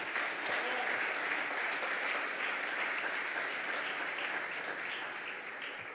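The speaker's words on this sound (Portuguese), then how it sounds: "Você pode aplaudir o Senhor, querido?" A church congregation at a Wednesday service claps steadily for several seconds, a soft, even wash of applause that slowly fades, with a faint voice briefly audible.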